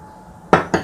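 A spoon clinks twice against dishes during a meal of spicy eggplant and nugget with shrimp-paste sambal, two short sharp knocks in quick succession.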